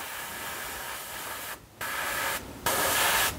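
Airbrush spraying purple contrast paint onto a miniature model's arm in a steady close hiss, broken by two brief pauses before resuming slightly louder.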